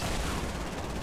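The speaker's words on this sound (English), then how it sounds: "I throw a dynamite" Dynamite blast in the Fortnite video game, a loud, dense rumbling roar that fills the whole moment with steady low-end boom and crackle, no voices over it.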